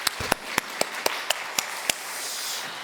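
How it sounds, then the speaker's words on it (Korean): Scattered, evenly spaced claps from a church congregation, about eight sharp taps over a soft hiss rather than full rolling applause. "우리 힘차게 하나님께 영광의 박수 올려드리겠습니다."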